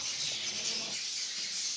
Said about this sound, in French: Il s'agit en fait de martinets, des oiseaux migrateurs.